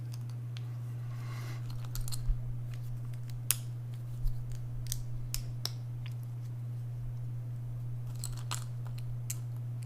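Lego parts clatter and click as they are moved and handled, scattered small plastic ticks and light rattles over a steady low electrical hum, close and fairly quiet.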